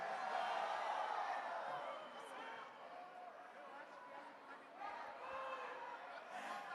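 Football supporters of Remo or Paysandu shouting and cheering as a large crowd at an event in Belém, Pará, a steady roar of voices somewhat distant, with a few louder swells throughout.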